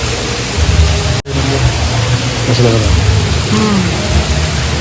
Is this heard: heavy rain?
yes